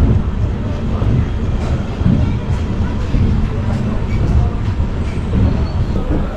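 Passenger train on the Digha to Howrah run, heard from inside as a steady, loud rumble of wheels and carriage noise with faint rhythmic clatter throughout.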